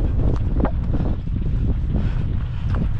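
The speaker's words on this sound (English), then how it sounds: "You got some really good gusts of wind." Strong wind gusts buffet the microphone on an exposed Welsh hillside near the cloud line, a loud, continuous rumbling roar with surging bursts throughout.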